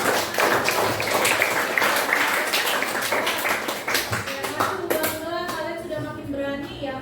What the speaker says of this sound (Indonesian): Ayo berikan tepuk tangan untuk semua.